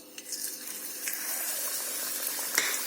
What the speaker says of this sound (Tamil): பாருங்க எண்ணெய் நல்லா காஞ்சிருச்சு இதில் நம்ம பிசைஞ்சு வச்சுருக்கிற மாவு வடை மாவு எடுத்து கொஞ்சம் கொஞ்சமாக போடலாம்